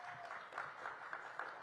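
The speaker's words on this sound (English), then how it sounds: "Please give them a big round of applause" Steady, fairly faint applause from a crowd at a police air support unit event unveiling a new helicopter, a continuous wash of clapping without speech.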